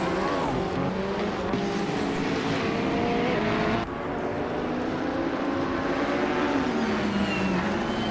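A 2018 Ferrari 488 GTE race car launching from pole in a racing game, loud engine roar rising in pitch through quick gear changes, continuous and close with a sharp shift partway.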